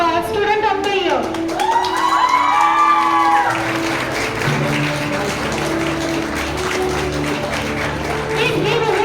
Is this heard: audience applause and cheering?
yes